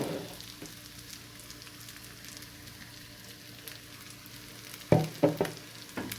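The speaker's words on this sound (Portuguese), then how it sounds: "Misturei a linguiça e a cebola. Vou deixar fritar mais um pouquinho aqui" Calabresa sausage and onion fry in a pan with a quiet, steady sizzle, then a few loud scrapes and clanks of stirring come close to the end.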